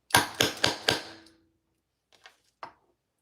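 A hand press clamps hardware onto key fobs, four sharp metallic thunks in quick even succession, close and loud, followed by a pause and three fainter clicks.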